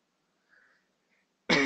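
One abrupt cough bursts out loud and close at the very end, after near silence with only a faint murmur earlier.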